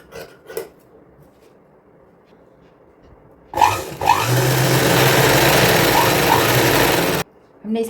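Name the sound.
stitching both sides of a fabric strip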